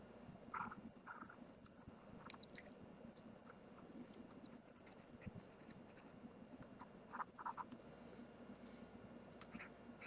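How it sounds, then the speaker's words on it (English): A fine point marker scratches and squeaks faintly across a card, in short strokes with small pauses between them, all set against a quiet background hiss. "So I'm going to write the word permission."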